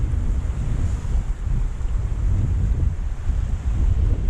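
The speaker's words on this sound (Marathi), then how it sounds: "वादळ झालाय समुद्रात त्याच्यामुळे लाटा पण भरपूर येतात" A stormy sea pounds the shore in heavy surf, and strong wind buffets the microphone in a constant loud roar with no voices.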